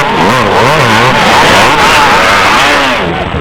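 Honda CRF 450 enduro bikes race on the sand at Le Touquet, loud close engines rising and falling through quick rev sweeps as several machines overlap.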